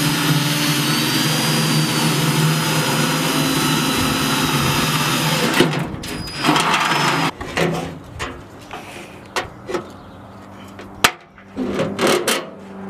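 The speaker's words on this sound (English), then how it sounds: "The giant 5-foot cone-shaped exhaust tips are mounted on the back of the Lamborghini Gallardo. That one's gonna be super loud." Lamborghini Gallardo fitted with giant cone-shaped exhaust tips, a loud steady engine drone with a whine that cuts out partway, followed by sporadic bangs, rattles and bursts of revving.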